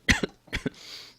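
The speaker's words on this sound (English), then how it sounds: "The tickly cough is back." A tickly cough from a commentator during a Pokémon card tournament final, two close pairs of sharp, loud coughs in quick succession, followed by a faint hiss.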